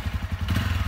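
Motorcycle engine running close by during a ride with a Pinscher dog aboard, a steady low throbbing putter with rhythmic pulses and light clatter.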